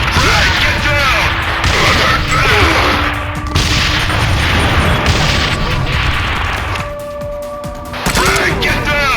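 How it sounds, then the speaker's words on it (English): A frag grenade goes off in Tom Clancy's Ghost Recon on Wii, with dense crackling blasts and gunfire over a loud, busy combat mix, with voices calling out through the noise. "Frag, get down!"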